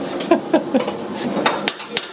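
Sharp metallic strikes of a hammer on a metal exhaust pipe ring out at an uneven pace, about seven hits over two seconds, with a voice murmuring faintly underneath.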